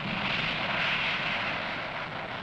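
Medium and heavy bombers fly overhead in the distance, giving a steady, broad aircraft engine roar that fades slightly toward the end, heard alone without voices.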